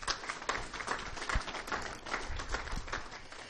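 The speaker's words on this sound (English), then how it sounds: "Give it a big round of applause" An audience at the 2019 Wayne County Spelling Bee applauds with a dense, even patter of many hands clapping, heard at a moderate distance without pause.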